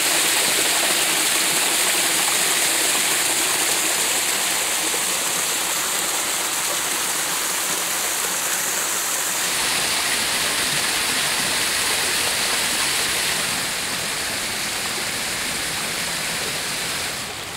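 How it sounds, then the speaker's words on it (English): Small waterfalls on Joe's River in Barbados rush in a steady, loud, unbroken roar of falling water, close by and continuous with no voices. "There are so many fantastic small waterfalls"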